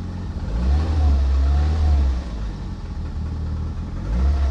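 A car engine fitted with a new oil pressure gauge is revved once, rising to a louder surge for about a second, then settling back to a low, steady idle rumble.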